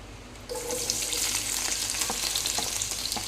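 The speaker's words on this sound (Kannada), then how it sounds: "ನಾನಿಲ್ಲಿ ತುಪ್ಪ ಬಿಸಿ ಮಾಡಲಿಕ್ಕೆ ಇಟ್ಟಿದ್ದೇನೆ ನಾನು ನೀರುಳ್ಳಿಯನ್ನು ಫ್ರೈ ಮಾಡ್ತೇನೆ" Onions frying in hot ghee in a home kitchen pan give a loud, steady sizzle that starts abruptly and continues with light crackles and stirring, without speech.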